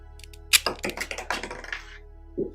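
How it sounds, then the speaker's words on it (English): A Transformers Rotor Force toy launcher is wound up with a quick run of close, dry ratcheting clicks and then fired with a short plastic snap, the clicks tight and separate over a faint electrical hum. "you can wind it up like so and fire"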